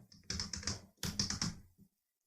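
Quick typing on a computer keyboard while working in Visual Studio Code, with two short bursts of key clicks separated by a pause, close and fairly quiet, followed by one lone keystroke.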